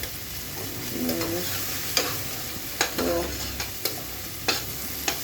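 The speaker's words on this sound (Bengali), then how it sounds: "একটু সামান্য পরিমাণ ভেজে নিব কারণ রসুন রসুনের একটু ভাজা গন্ধ হলে প্রচুর শাকটাতে ভালো লাগে" Crushed garlic fries in a pan with a soft continuous sizzle, broken by several sharp scrapes and clinks of a spatula stirring, close and fairly quiet.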